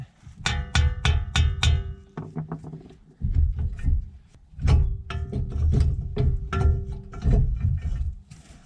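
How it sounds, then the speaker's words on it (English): Sharp metallic taps from a hammer loosening a car axle during a ball joint repair, delivered in quick bursts of several strikes with short pauses, close and ringing. "if your axle is hanging on, you can give it a gentle tap to help it out."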